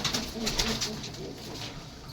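Pigeons coo in a loft housing racing homers, red and black pigeons and Australian pigeons, with soft repeated throaty coos from several birds close by, layered over one another without pause.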